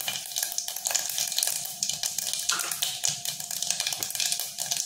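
Mustard seeds and cumin crackle in hot oil for a dal tempering, giving a close, busy sizzle with rapid popping bursts and no voices.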